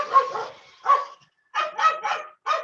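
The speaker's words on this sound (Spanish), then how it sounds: "Oh, el perro." Dog barking in short bursts, one bark, a pause, then a quick run of three and a final bark, fairly close and clear with no talk over it.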